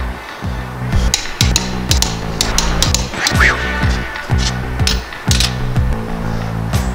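Wheel lug nuts on a Jeep Wrangler being torqued to 95 foot-pounds after a brake pad and rotor job: repeated close, loud ratcheting and mechanical clicks in bursts, with sharp metallic taps throughout.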